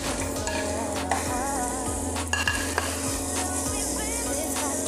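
Minced garlic and ginger fry in a pan for eggplant sisig, a steady close sizzle with repeated spatula stirs and scrapes against the pan.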